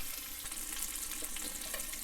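Ground beef kofta patties fry in a pan with a steady, close hiss and crackle of sizzling fat, continuous and even throughout, with no one speaking.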